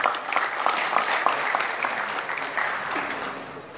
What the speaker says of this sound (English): Can we give our sponsors a round of applause,